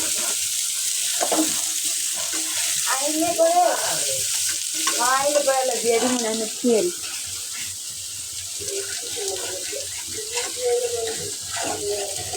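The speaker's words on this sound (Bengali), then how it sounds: "আর একটু ভাজা ভাজা করতে করতেই পেঁয়াজটা ভাজা হয়ে যাবে" Pointed gourd with green chili and onion fries in a pan, making a continuous sizzle with scraping stirs, and a voice talks intermittently over the cooking.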